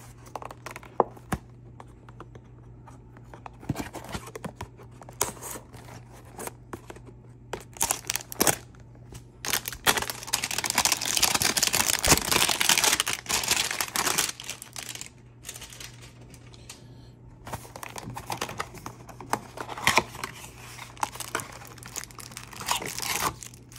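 A Flux hanger box of trading cards is torn open up close: irregular cardboard rips, crinkling and crunching come in bursts, with a dense stretch of tearing and rustling in the middle, and no one talks.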